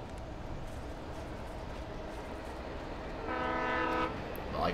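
A train rumbles past near a depot in the Alan Wake video game, a low steady roar that swells toward the end as a horn sounds over it.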